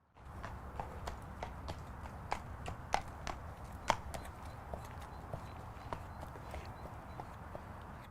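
A horse walks on a hard surface at the approach to an arena, its hooves striking in a steady, evenly spaced clip-clop of about ten steps, close and distinct over faint background noise.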